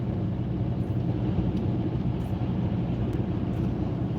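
Low, steady road rumble and engine drone heard from inside a moving car, continuous and fairly loud with no talking.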